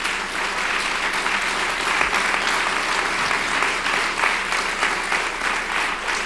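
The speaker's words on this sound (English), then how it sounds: "You may applaud." An audience in a Baptist church applauds steadily, a dense, even clatter of many hands that carries on without a break, moderately loud and with no talking over it.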